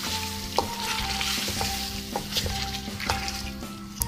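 Green chillies and ground coriander paste sizzle in hot oil for a chicken karahi, a dense close frying hiss with intermittent clinks and scrapes of stirring, no speech.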